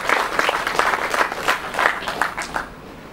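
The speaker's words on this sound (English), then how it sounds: "Please, can we have another round of applause for our team?" Audience applause at a pro bono awards ceremony, a short burst of many hands clapping close and steady before fading out at the end.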